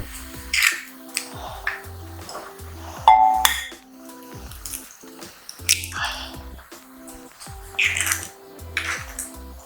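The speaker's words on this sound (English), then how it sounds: "I'm going to start by breaking the eggs." Eggs are cracked and dropped into a bowl while yam boils for an egg sauce, giving sharp shell taps and clinks followed by soft wet squishes, repeated several times at close range without talk.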